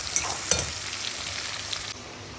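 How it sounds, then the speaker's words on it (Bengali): Chopped onions sizzle steadily in hot oil in a pan, a loud, dense crackling hiss that carries on throughout with a few sharper pops early on and no talk. "পেঁয়াজটা ফ্রাই করে নিই।"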